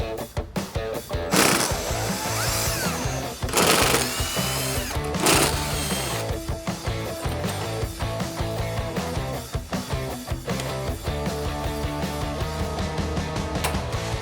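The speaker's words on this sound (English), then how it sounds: "We're going to do the same thing for the passenger side using that same T30 Torx bit." Power drill with a T30 Torx bit driving screws into a speaker cover on a 1997-2006 Jeep Wrangler TJ, loud close whirring bursts that rise and stop repeatedly amid clattering handling noise.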